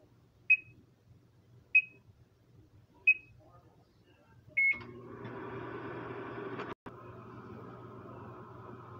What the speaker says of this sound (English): I just put that in the microwave right there.